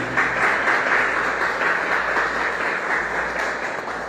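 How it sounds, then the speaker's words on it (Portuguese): Church congregation applauding during a Sunday family worship service, a dense, steady wash of many hands clapping at close range for about four seconds with no speech over it. "Aplauda o Senhor com alegria"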